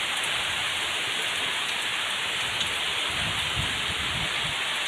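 Heavy rain pounds a hut in the middle of a rice field during a windy thunderstorm, a dense, steady roar with a low rumble rising briefly near the end.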